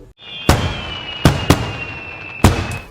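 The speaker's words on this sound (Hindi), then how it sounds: "अरे पटाखों की आवाज।" Firecrackers burst around Diwali with four sharp, loud bangs at irregular intervals, one pair close together, over a steady high whine and background noise.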